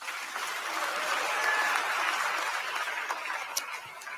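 An audience claps hands in steady, sustained applause, a dense wash of claps that holds at an even level for several seconds with a few sharper individual claps near the end.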